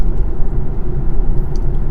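A car driving past on a street, a loud low rumble of engine and tyre noise that stays close and steady for a couple of seconds without any voices.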